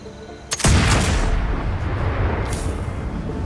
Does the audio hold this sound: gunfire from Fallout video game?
yes